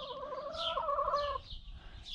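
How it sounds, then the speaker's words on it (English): A hen near a calf clucks and cackles close by in a run of drawn-out calls, faint but clear above a low background rumble. "Well, there goes the hen again."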